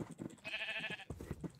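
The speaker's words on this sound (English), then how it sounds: "I've got to get the sheep." A sheep from the Minecraft Feed The Beast modpack lets out a single drawn-out bleat in the middle, set among soft game noises and muffled thumps.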